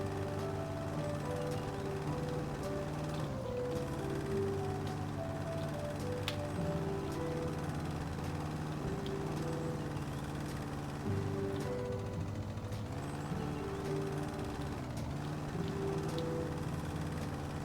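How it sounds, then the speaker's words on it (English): Engine drone of a lawn mower cutting grass in a garden in the House Flipper video game, a steady tonal hum that runs without break at even loudness. "Just mowing everything under."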